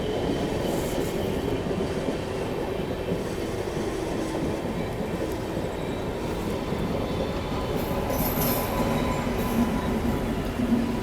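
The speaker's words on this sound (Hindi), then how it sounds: "ये प्रयागराज ग्वालियर एक्सप्रेस की रेक की शंटिंग हो रही है" The Prayagraj-Gwalior Express rake is shunted at Prayagraj Junction, producing a steady rolling rumble with faint clickety-clack and a brief high wheel squeal near the end, heard continuously and without talk.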